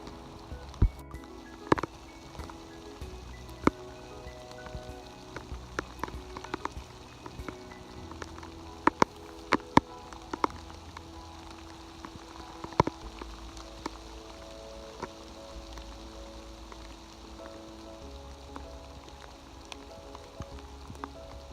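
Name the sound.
heavy rain in woodland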